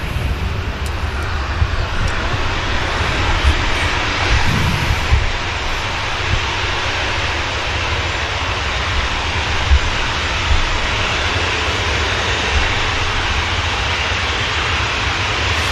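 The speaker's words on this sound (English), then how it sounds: "There goes the baby prop." A small propeller aircraft departs from Manchester Airport, a steady broad engine drone heard at a distance, continuous and fairly loud with wind-like rushing throughout.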